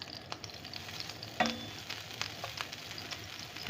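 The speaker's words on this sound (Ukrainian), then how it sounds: "На розігріту сковорідку я викидаю вершкове масло" Soft, steady sizzling and crackling of butter melting in a hot frying pan, with a few sharper pops and clinks partway through.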